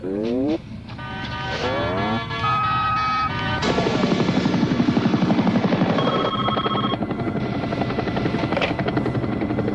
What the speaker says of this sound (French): Bougez l'hélicoptère vers le nord.